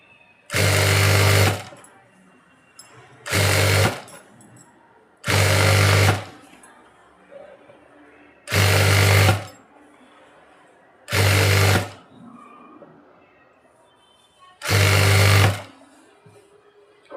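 Sewing machine stitching a churidar pant, six loud bursts of machine running, each about a second long, separated by quiet pauses; no talking.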